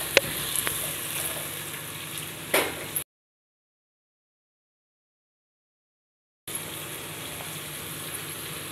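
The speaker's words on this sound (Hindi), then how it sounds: "इसीलिए तेल के साथ ही थोड़ा सा इसको फ्राई कर दें।" Soft, steady sizzling of carrots and peas frying in oil in a pan for chicken pulao, with a few light stirring clicks, broken by a stretch of silence before the sizzle returns.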